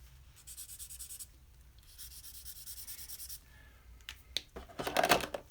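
An alcohol marker with a drying flesh-tone nib rubs across paper in scratchy back-and-forth strokes, close and quiet, with a few louder dabs near the end.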